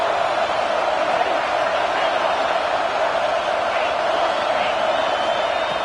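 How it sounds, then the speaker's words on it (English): Steady, dense roar of a fired-up stadium crowd at a college football game, continuous and loud throughout with no breaks, a broad wash of massed voices. "this crowd is fired up. Listen to this noise here."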